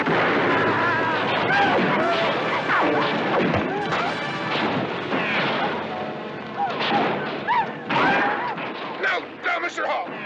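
Rifle fire in a Western setting, repeated loud cracks and booms scattered across the scene, mixed with shouting voices and clatter.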